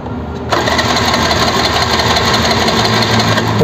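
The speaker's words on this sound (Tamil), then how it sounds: "இப்போ நமக்கு வந்து பைக் வந்து ஸ்டார்ட் ஆகும்." A TVS Scooty Pep+ scooter with a spark plug ignition fault cranks and catches, its small engine then running steadily at a fast, buzzing idle, close and loud after a brief quiet start.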